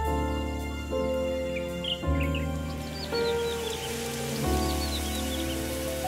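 Steady rain falls over the Kinmen wetlands, a continuous hiss with scattered drips, while birds chirp intermittently and a low musical drone runs underneath.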